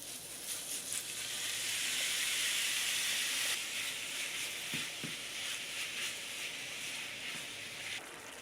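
Steady sizzling hiss of meat frying in hot oil, with a few faint clicks and knocks of the pan.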